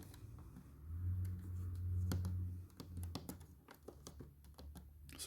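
Keys on a Prinztronic Financial calculator are pressed in a quick irregular series of soft clicks, close and quiet, over a low steady hum from about one to three seconds.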